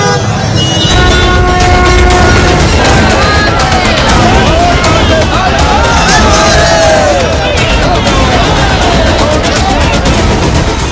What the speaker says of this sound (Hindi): प्रयागराज की सड़कों की तस्वीर है, भारी भीड़ है